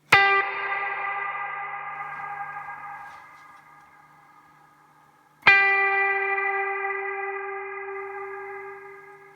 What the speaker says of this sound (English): So it's like a constantly rising reverb.